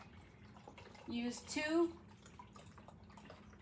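Beef broth pours from a measuring cup into chorizo chili, making a brief liquid splash and trickle close by while a person talks over it.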